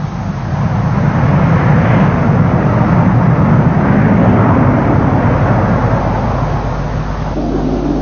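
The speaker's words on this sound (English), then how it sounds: "Even carrying its maximum weapon load, the aircraft is still able to take off in a very short distance." A Panavia Tornado jet roars loudly and continuously as it takes off, a broad, sustained engine rumble that stays steady throughout.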